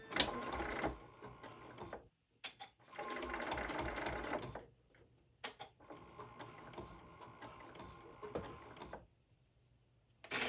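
A sewing machine stitches a bag in several close bursts of rapid mechanical whirring, separated by short pauses and light clicks.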